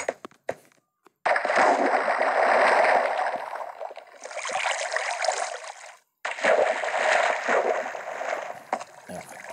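Water splashing in Minecraft as a character takes a bath, bursts of rushing, sloshing water broken by short pauses, with a voice talking over parts of it.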